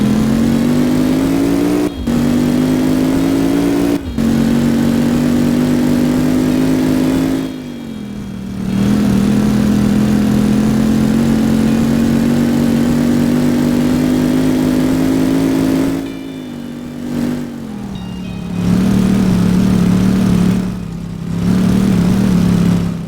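A car with a damaged exhaust system drones loudly while driving, a rough, buzzy engine tone rising and falling with throttle, broken by several short dips as it shifts or lifts off, close and continuous.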